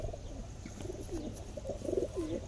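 Breeder pigeons at a bird market in Nagpur give soft, low cooing calls, a few rolling coos in a row, moderately close over a faint background hum.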